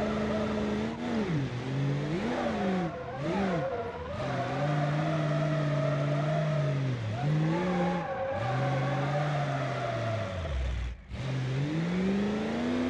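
A diesel car engine in BeamNG.Drive revs up and down in repeated swells, holding a steady high drone between brief dips, loud and close with no talk.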